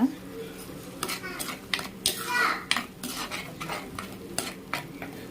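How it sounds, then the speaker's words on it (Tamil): Onions being sautéed in a pan over a medium flame for a Tamil fish curry, with a soft steady sizzle beneath repeated clinks and scrapes of a spoon stirring against the pan, close by and moderately loud. "இந்த வெங்காயத்தோட அந்த ராஸ்மெல் பச்சை வாடை போகிற அளவுக்கு கொஞ்சம் வதக்கிக்கோங்க மீடியம் ஃப்ளேமில் வச்சுக்கோங்க"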